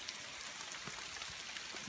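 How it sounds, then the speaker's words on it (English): Water pours steadily down into a sinkhole in a flooding outdoor area, a continuous broadband rushing splash with scattered drip-like patters, fairly faint and unbroken throughout with no talking. "Water's coming down here, just pouring down a hole right there."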